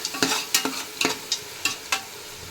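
Ginger garlic paste frying in oil for nati-style donne biryani: a bright steady sizzle with rhythmic spatula strokes scraping the pan every half second or so, close and alone.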